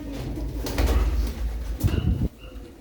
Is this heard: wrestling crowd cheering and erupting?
no